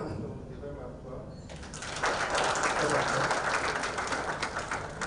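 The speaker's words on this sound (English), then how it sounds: "I just want everyone to give them a applause" Applause from the audience at a corporate partners' meet, rising from about two seconds into a steady, fairly loud patter that carries on to the end, with some chatter in the room early on.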